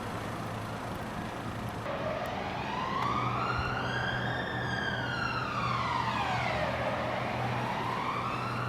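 A police car siren wails in a slow rising and falling sweep, loud and steady over a low engine hum as it passes close by.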